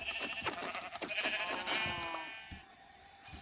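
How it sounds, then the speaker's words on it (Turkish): Minecraft sheep bleat again and again over a busy, layered background of synthetic game effects, the bleats wavering and fairly close. "bakın burada bir koyun daha var"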